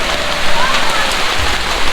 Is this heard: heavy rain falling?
yes